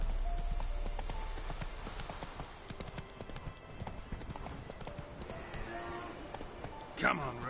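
Roach the horse trotting in The Witcher 3, a steady run of close hoof clip-clops with game ambience and a voice speaking over it.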